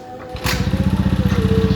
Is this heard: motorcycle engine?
yes